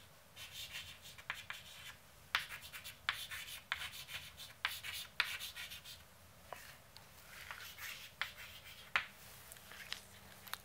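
Chalk or marker strokes on a board while explaining call congestion, with quick scratchy taps and rubs in irregular bursts, close and fairly faint, with no talk over them.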